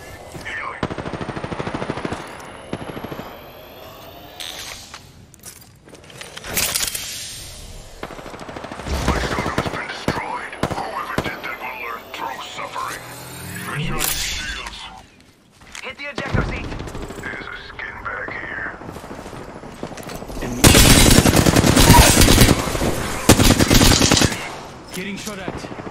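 Rapid automatic gunfire and single shots from a team-based video game shooter, loud and dense with bursts throughout and a heavier volley near the end, with player voices talking over parts of it.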